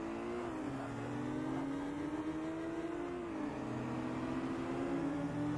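An Acura Integra Type R engine in Forza Motorsport, racing at Alpine Ring, drones steadily with rising revs and brief pitch drops at gear shifts, loud and unbroken, with no talking.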